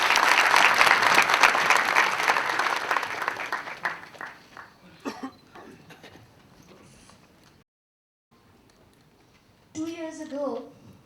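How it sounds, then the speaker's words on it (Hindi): A theatre audience at an Enlighten Film Society event claps loudly at first, then the applause tapers off, with a pause of near silence. Someone starts speaking near the end. "तालियां भावना जी के लिए"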